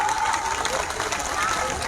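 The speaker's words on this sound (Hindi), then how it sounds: "एक बार पुनः जोरदार तालियों से स्वागत, उनका अभिनंदन करते हुए अतिथियों का" A crowd at a women's conference welcomes guests with loud, steady applause, a dense wash of clapping mixed with cheering that continues for the whole stretch.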